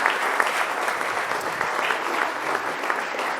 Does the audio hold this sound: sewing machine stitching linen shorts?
no